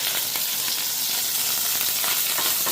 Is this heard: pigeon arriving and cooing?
no